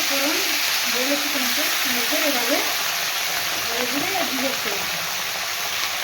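Vegetables dropped one at a time into a hot pan with oil and a fried fish head, giving a loud, steady close sizzle and hiss, while someone talks over it throughout.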